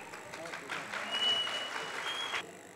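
Audience at a talent show applauding for a child performer, a short burst of clapping that swells and fades, with voices mixed in.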